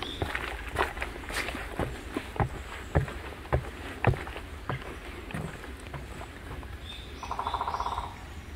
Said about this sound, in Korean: 딱따구리 소리가 들리네요